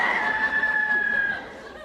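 A young hen that is turning into a rooster gives one strained, drawn-out crowing call, close and fairly loud, steady for about a second before trailing off.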